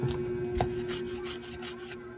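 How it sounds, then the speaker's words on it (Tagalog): A steel brush scrubs electronics, apparently an LCD part, in quick close strokes, roughly eight even rhythmic rasps over a faint steady hum. "Gamit tayo ng ito, steel brush para matanggal yung mga kulangot-kulangot."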